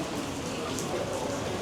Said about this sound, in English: So I'm hoping that the rain lets up